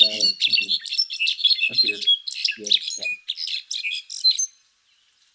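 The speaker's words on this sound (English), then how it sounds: "This wild mix of metallic trills and clinks and clangs as, and it sort of descends down." A wild bird calls with a busy mix of metallic trills and clinks, bright repeated notes for several seconds over brief speech, then falling silent.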